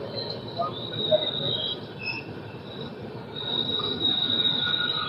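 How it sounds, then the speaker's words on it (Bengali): The Saraighat Express pulls into Bardhaman station with high metallic wheel squeals over a low rolling rumble of rail wagons. It sounds close and steady, swelling slightly toward the end. "বর্ধমান ঢুকে গেছে সরাইঘাট এক্সপ্রেস।"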